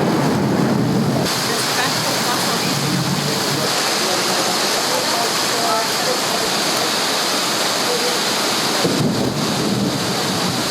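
Torrential rain pours down during a storm on a coastline with crumbling cliffs, a loud, dense, unbroken roar heard from a car.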